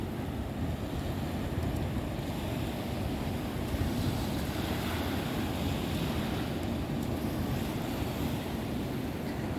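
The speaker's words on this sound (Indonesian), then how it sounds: "ini situasi pantai di sekitar" Waves wash steadily onto a quiet sandy beach at Ujung Genteng in Sukabumi, West Java, a continuous broad roar with wind rumbling against the microphone and no voices.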